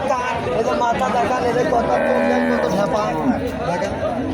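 A Jersey dairy cow at the Oronkola cattle market lets out a drawn-out moo close by, heard under steady crowd chatter and people talking nearby.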